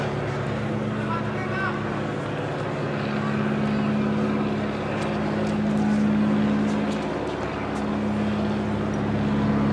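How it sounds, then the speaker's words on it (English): A low, steady drone from an airship flying overhead during a Key Biscayne tennis match, with its hum swelling and fading slightly under background crowd ambience and faint talk. "Actually, it's the sound of the airship."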